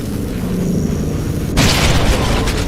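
Dynamite blast in a Resident Evil-style zombie video game, a sudden loud booming burst that cuts in after a low droning background and lingers as a rumbling tail.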